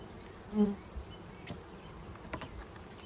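Honey bees buzz faintly and steadily outdoors while a nuc is installed into a hive, with a few soft thumps and knocks and no talking.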